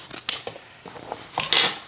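Scissors snipping through old denim jeans during bag making, a few short crisp cuts close up, with brief pauses between snips and no talking.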